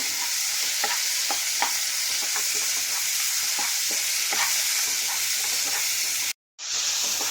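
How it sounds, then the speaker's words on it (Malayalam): Salted tomatoes and onions fry together in a pan for a sausage roast, sizzling in a dense steady hiss with regular scraping strokes of stirring, interrupted by one brief cutout near the end. "ഈ തക്കാളിയും ഇതെല്ലാം കൂടെ ഒന്ന് നല്ലപോലെ വഴന്ന് വരട്ടെ"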